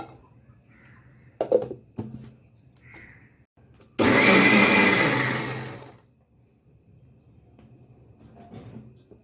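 A mixer grinder blends a spice paste of black pepper with a little water in a kitchen, a loud whirring burst of about two seconds standing alone amid a few soft knocks and clatters.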